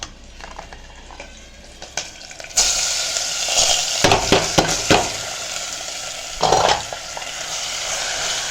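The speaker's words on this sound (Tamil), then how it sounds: "இப்போ இந்த கிழங்கு எடுத்து நம்ம அதில் போட்டுக்கலாம்" A tuber being added to a hot pan and stirred as it fries, with a steady broadband sizzle that jumps louder as it goes in, plus intermittent scraping stirs and utensil knocks against the pan; no talking.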